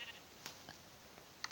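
Faint, short sheep bleats from Minecraft come through in a quiet game setting, with a couple of soft blips and a slightly louder bleat right at the end.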